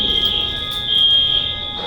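A building fire alarm rings continuously after being pulled, a steady piercing electronic tone held throughout at a loud, constant level with no one talking.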